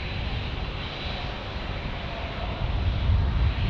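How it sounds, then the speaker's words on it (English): A Japan Airlines heavy airliner passes at San Diego airport, a broad steady engine roar that swells louder toward the end, with no voices. "All right, here comes Japan Airlines. Time to sound the heavy alert."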